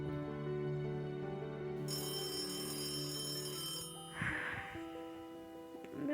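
A telephone rings steadily from a bedroom, with sustained electronic tones that change partway through, heard at moderate level with faint background clatter and no speech.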